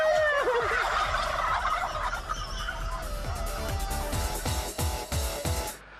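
Turkeys gobble in a loud, close chorus, a warbling burst up front followed by a rapid series of repeated gobbles rolling on until they cut off abruptly.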